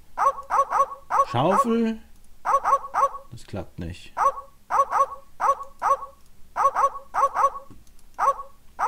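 Repeated sharp barking from a pack of dogs in The Secret of Monkey Island, loud and rhythmic in quick bursts across the whole stretch, with someone briefly speaking German over it.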